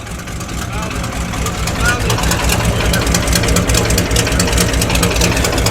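A classic car engine idles loudly and close by at an outdoor breakfast car meet at Heskin Hall, a deep, even, throbbing rumble that holds steady throughout while voices carry faintly around it.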